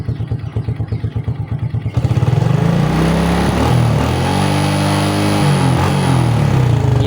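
A motorcycle engine idles with a rapid, even chug, then is revved hard and held at high revs with wavering pitch during a half-wave rectifier regulator test, loud and close, with no talking.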